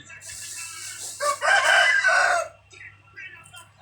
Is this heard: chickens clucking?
yes